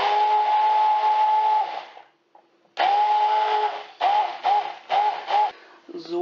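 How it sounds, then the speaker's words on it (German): An immersion hand blender purees berries for a quark cake, its motor whining steadily in loud, sustained runs, then switched on and off in several short pulses, close up with no talk. "hier habe ich meinen Pürierstab und jetzt pürieren wir das erstmal"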